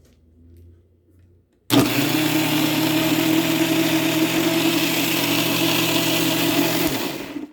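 A kitchen mixer grinder pulps mango for mango kulfi, starting abruptly after a quiet moment and running as a loud, steady motor whir for about five seconds before cutting off.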